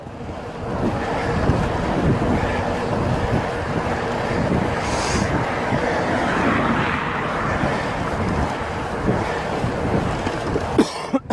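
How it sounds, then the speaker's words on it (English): Wind blowing into the microphone on a bike ride into a northerly headwind, a loud continuous rushing roar that swells and eases throughout, with a few brief knocks near the end. "Yep, definitely a headwind this way."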